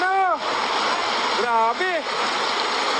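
Floodwater from Typhoon Kristine rushes amid heavy rain, a loud, continuous roaring wash with splashing, while excited voices shout over it.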